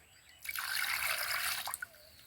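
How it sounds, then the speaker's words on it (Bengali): Fresh chhana being rinsed under cold water, a short close rush of running water lasting over a second, with faint drips as it stops. "ছানাটা গরম জল থেকে ছেঁকে নিয়ে ঠান্ডা জল দিয়ে দু থেকে তিনবার ভালো করে ধুয়ে"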